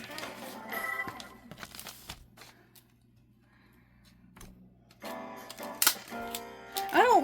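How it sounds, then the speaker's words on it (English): A book being wrapped in sheets of wrapping paper: crisp crinkles, rustles and sharp paper snaps come in bursts at close range, with a quiet pause in the middle and a brief squeak near the end. "I'm just going to wrap the book up"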